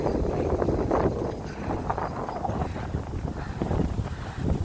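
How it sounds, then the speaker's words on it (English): Breezy wind on a morning walk on Mackinac Island, blustering steadily against the microphone as low rumbling gusts, with faint background clatter. "It's breezy. See the flags up there."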